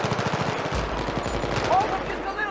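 Automatic gunfire from a Battlefield 3 firefight crackles in rapid, closely spaced bursts, loudest at the start and then blending into a dense, noisy battle mix.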